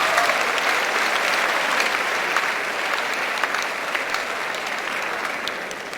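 A large crowd of fresh university students at an orientation programme gives a dense, loud round of applause, a continuous roar of clapping that holds steady and tapers only slightly toward the end.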